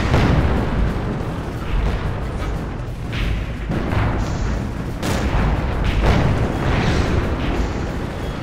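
Tank cannon shots in a tank video game boom repeatedly over a constant loud rumble of engine and battle noise, with several sharp blasts spread through the scene.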